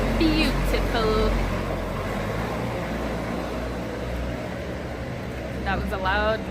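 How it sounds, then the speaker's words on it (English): A loud bus rumbles past on a city street, a low, steady engine drone that swells and holds, with voices talking over it at the start and end. "That was a loud bus and a loud bell before that."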